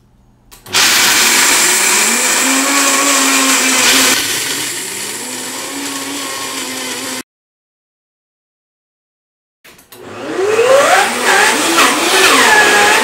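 A Vitamix blender grinds almonds into butter with a loud, steady roar that shifts in pitch, stops abruptly for a few seconds, then starts up again with a rising whine.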